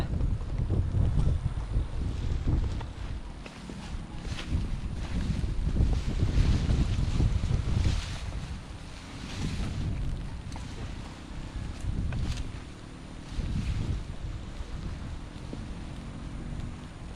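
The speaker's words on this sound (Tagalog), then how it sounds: "Maulan, uy!" Strong wind and steady heavy rain roar outdoors during a harvest in a downpour, a continuous loud wash of noise with gusty swells and no clear voices.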